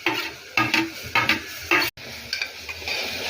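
Ginger garlic paste sautéing in a pan with onions and green chillies, several short bursts of spoon scraping and stirring over a soft sizzle, close by and without talk.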